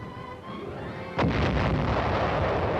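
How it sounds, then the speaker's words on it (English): Artillery in the wooded hills of Korea in 1951 firing white phosphorus shells, a single sudden heavy boom cutting through low background rumble and then trailing off into a long rolling decay. "white phosphorus shells pound communist positions"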